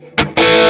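An electric guitar with heavy distortion strikes a short chord, cuts off, then rings out with a loud, sustained, gritty tone up close.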